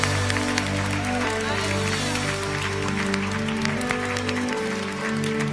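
A church congregation applauds to acclaim the Lord Jesus, steady dense clapping under sustained music, with voices mixed in throughout.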